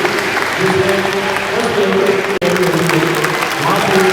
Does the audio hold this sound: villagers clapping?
yes